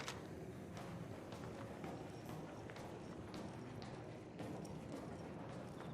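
Footsteps in the game ARC Raiders, a series of quick, evenly spaced steps like running, faint and somewhat distant over a steady low background hum, with no clear speech.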